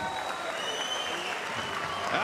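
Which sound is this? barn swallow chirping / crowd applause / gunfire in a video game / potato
crowd applause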